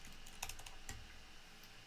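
Faint, scattered clicks of computer keys tapped at a desk while coding, a few quick keystrokes near the start and a louder single tap, with no talking.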